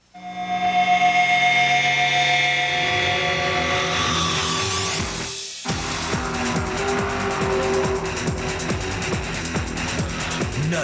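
Mazda race cars roar past with loud, high-revving engines. Sustained tonal whines give way to a brief cut, then buzzing, pulsing engine notes and gear changes at close range, with no voices.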